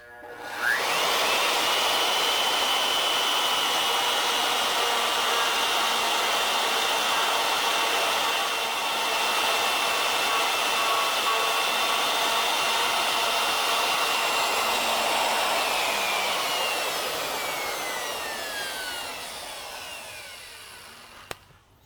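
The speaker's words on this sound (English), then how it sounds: "we'll bring the router in at about 1/8 of an inch inside the outside" A router bit mills wood on a Legacy ornamental mill. It spins up quickly into a loud, continuous high whine and grinding rasp that holds for about fifteen seconds before gradually spinning down.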